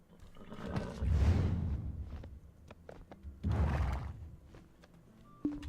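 A horse in the game Black Desert neighs twice, two drawn-out whinnies a few seconds apart, moderately loud and mostly alone with faint ambient game sound.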